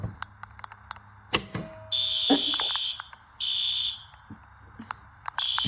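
A System Sensor P2R fire alarm horn strobe, set off from a pull station, blares in loud repeated bursts of harsh tone, mixed with clicks, knocks and handling noises nearby.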